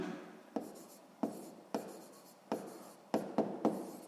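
A pen writes on paper during a sixth-grade math exercise, with soft scratching strokes broken by several sharp taps as the tip lands, close and fairly quiet, with no voice.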